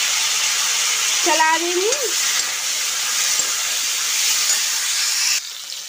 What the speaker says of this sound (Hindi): अब हम अपनी आम डाल देते हैं और आम को भी हमें फ्राई करना है।